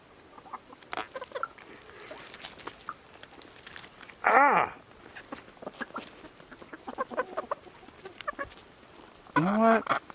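Chickens clucking near a backyard chicken coop beside a garden high tunnel, with scattered close clucks and two louder, drawn-out squawking calls standing out from the quieter background.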